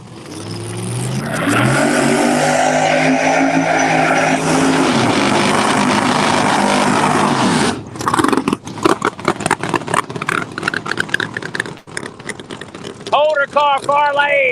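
Pro Mod drag race cars blasting off the line at Cecil County Dragway, a loud, sustained engine roar that rises in pitch, cuts off abruptly and gives way to crackling revs as a commentator talks over it.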